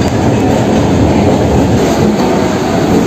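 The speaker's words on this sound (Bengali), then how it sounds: "হাসনাবাদ লোকালে আজকে আমরা যাত্রা করছি" A Hasnabad local train runs along the Kolkata Circular Rail, heard from inside the carriage as a loud, steady rumble of wheels and rolling stock, continuous throughout with faint clickety-clack.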